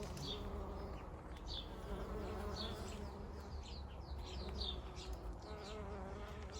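Bees and wasps buzz continuously around flowering Persicaria amplexicaulis plants at an outdoor plant nursery, a soft, steady insect drone with faint bird chirps above it.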